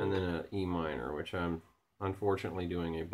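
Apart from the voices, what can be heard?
No distinct noise like a dog, phone or traffic.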